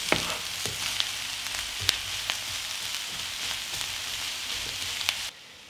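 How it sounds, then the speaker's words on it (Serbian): Onion and bell pepper fry together in a pan with a steady, close sizzle and occasional sharp crackles and stirring clicks, no talking, ending abruptly. "Na omekšali luk dodajem papriku i sve zajedno pržim dok i paprika ne omekša."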